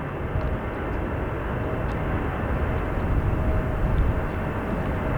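Airplane taking off from runway 28 left at an airport in high winds: a steady, loud jet roar with a broad rushing rumble and faint whine, sustained and close for the whole stretch, no voices.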